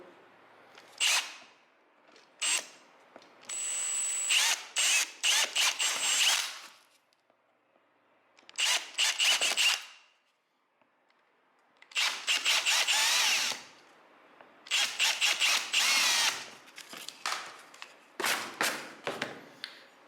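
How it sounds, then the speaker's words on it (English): A power drill whirs in repeated short bursts, spinning up and stopping several times with brief quiet gaps between holes, pre-drilling holes for fitting a curtain rail. "And we'll pre-drill them."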